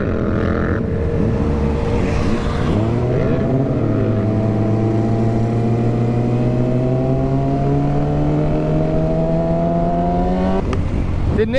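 A Yamaha R6 sport motorcycle accelerates hard, its engine note climbing steadily in pitch through a long, loud pull, with a brief shift near the start and another at the end, heard up close over wind rush.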